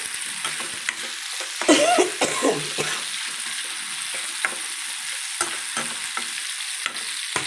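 Red chillies dry-roast in a pan without oil, giving a soft continuous sizzle with repeated scraping stirs and light clatter from a spatula, close and steady throughout.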